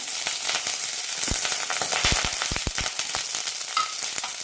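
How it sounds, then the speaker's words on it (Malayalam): Chopped shallots and curry leaves hit hot oil with mustard seeds while a long beans stir-fry is being made, producing a loud, steady sizzle dotted with sharp pops and crackles, close up and without voices. "ഇനി ഇതിലേക്ക് ചെറുതായി അരിഞ്ഞ ചെറിയ ഉള്ളിയും കറിവേപ്പില ഇടാം."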